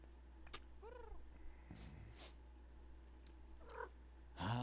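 Cat in the Edna & Harvey adventure game, with a short run of meow-like cries, scattered sound-effect thumps and a louder burst at the end, no speech.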